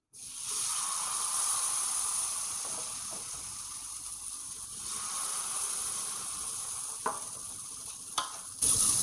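Vegetable paratha cooks with ghee on a hot tawa, giving a steady broadband sizzle that holds for nearly the whole stretch, with a few soft scrapes near the end and no voices.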